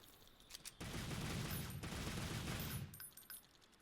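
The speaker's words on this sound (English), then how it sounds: "it's the Devil May Cry dual guns, as shown" Rapid gunfire from Devil May Cry themed dual pistols in Monster Hunter World, a dense sustained burst of shots lasting about two seconds, loud and close, then cutting off into quieter game ambience.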